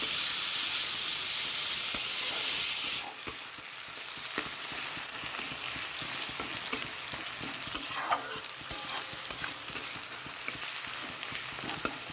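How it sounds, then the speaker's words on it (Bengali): Chopped onion goes into a hot pan for a potato and bean curry, bursting into a loud sizzle that settles into steady frying with scattered crackles and stirring clinks, no voices. "পেঁয়াজটা দিয়ে দিলাম"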